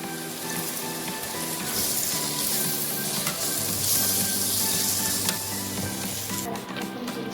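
Ginger paste, garlic paste, green chili and black pepper powder sizzle loudly in hot oil in a pan, a steady dense crackle with some stirring, no voices.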